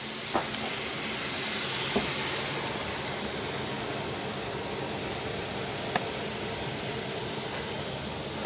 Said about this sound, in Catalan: I ara hi afegirem el cava.